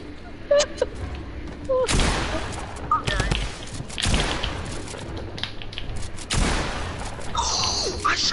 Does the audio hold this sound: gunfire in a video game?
yes